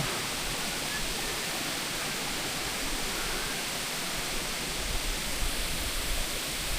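Aliw Falls waterfall pouring steadily with a dense, even roar of rushing water, close and continuous throughout with no voices.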